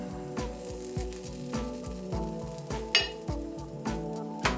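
Butter sizzles quietly in a Visions skillet while a utensil scrapes and clinks against the pan in a steady rhythm.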